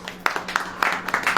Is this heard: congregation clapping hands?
yes